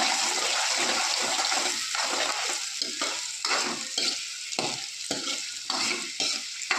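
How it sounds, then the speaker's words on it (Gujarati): Onions, tomato and chillies sizzle and fry in hot oil in a pan while a spoon stirs them in steady, repeated scraping strokes, close and fairly loud with no talking. "જો આવી રીતના મિક્સ કરી લેવાનું."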